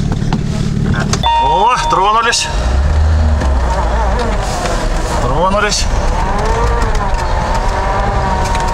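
A car trying to drive off through deep snow during a tire chain test, its engine droning steadily under loud talk, with rising whining revs and tire spin over several seconds.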